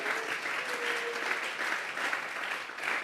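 A church congregation claps together as an offering of applause, a dense, continuous wash of hands that stays steady and full for several seconds.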